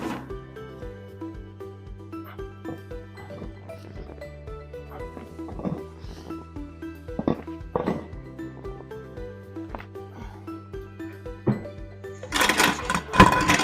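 A hip thrust machine loaded with 210 pounds works through steady repeated reps, each producing a rhythmic mechanical thump and creak, close and continuous, with a louder clatter at the very end.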